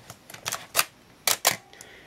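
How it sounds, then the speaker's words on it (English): A Minolta XG7 film camera set to automatic fires its shutter repeatedly, giving several sharp, close mechanical clicks spaced unevenly with short pauses between them. "we can see the shutter's operating, the aperture is stopping down."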